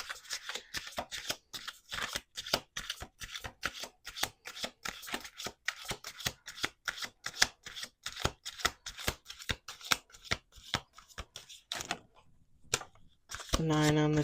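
Tarot cards shuffled in rapid, crisp riffling bursts with dense repeated flicks, then a pause and a brief louder rustle at the end; close and fairly loud, with no talking.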